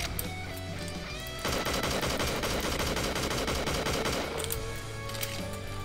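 Video game gunfire: after a brief lull comes a loud, dense burst of rapid shots lasting about three seconds, with scattered single shots before and after.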